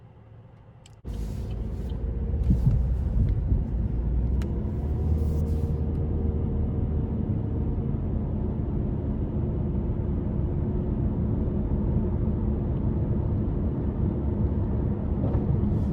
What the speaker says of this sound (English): So next it's time to take this Malibu RS out on the road for a test drive.